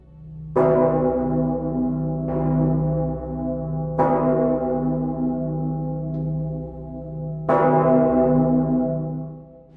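A large church bell tolls four heavy strikes at uneven intervals, each with a bright clang and a long humming decay that overlaps the next, loud and resonant with no voices.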